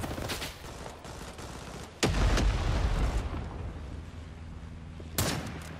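In a Mosin-Nagant shooter game, a grenade detonates with a sharp, loud boom amid scattered gunfire, followed by a second blast near the end.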